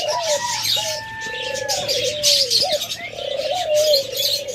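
Caged doves coo in repeated soft, rolling calls close by, mixed with brighter chirps and a busy background of other birds.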